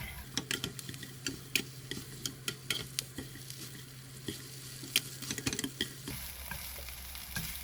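Pepper leaves frying in a pan over medium heat, with a steady low sizzle and repeated sharp clicks of a utensil stirring, close by; the sizzle drops away near the end.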